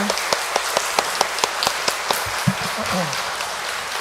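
Scattered claps for the priest at a children's farewell mass in a church, sparse and uneven rather than a full ovation, with a voice briefly heard near the end.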